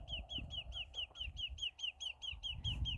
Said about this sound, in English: Not sure what kind of bird that is, but it's annoying.